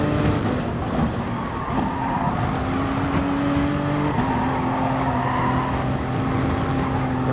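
Race car engines in the GT Sport video game, with steady high engine drone and shifting pitch as cars run on track, plus tire squeal, continuous and loud without talk.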